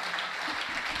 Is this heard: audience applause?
yes